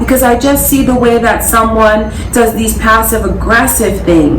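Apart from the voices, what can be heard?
No distinct noise like a dog, phone or traffic.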